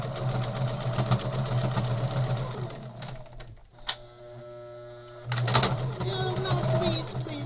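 A home sewing machine top stitching a quilted fabric clutch, a steady mechanical whirr running close and loud with a brief pause mid-way before stitching resumes, while a person talks over it.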